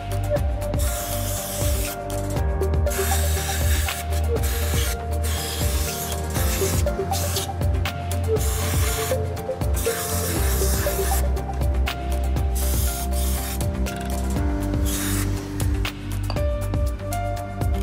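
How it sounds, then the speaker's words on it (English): Repeated hissing bursts of carburetor cleaner sprayed onto a Mercedes throttle body, with rubbing and faint clinks in between over a steady low hum, close by and with no talk. "Use a high-quality carburetor cleaner to clean the throttle body, spray from one side to the other side carefully."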